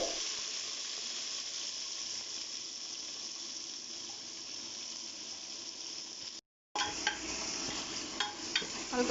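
Chopped onions fry in a pan with ginger-garlic paste for a Kashmiri-style mutton korma, giving a steady, fairly quiet sizzle that drops out briefly before a few utensil clinks and scrapes return over it.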